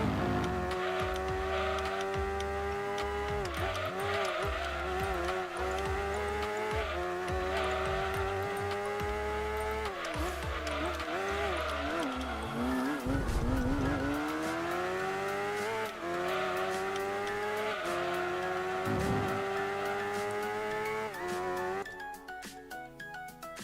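A race car in the video game Gran Turismo 2 revs through rising and falling engine pitches, with tires squealing through the corners. The loud, continuous in-game audio plays alone with no talking.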